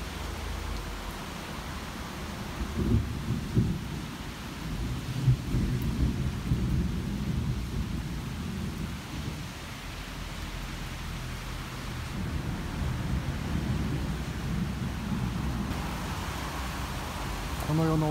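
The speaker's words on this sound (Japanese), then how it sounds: "やばい雷です。" A thunderstorm in Asunción, Paraguay, brings steady heavy rain with low rumbling thunder that swells several times over about eighteen seconds.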